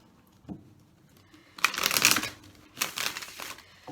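Tarot cards being shuffled up close, a rapid riffling burst that settles, then a second shorter flurry of papery flapping, with no talking.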